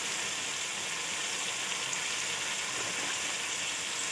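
Cumin seeds sizzling in hot oil for matar pulao, a steady, even hiss with no break and no talk.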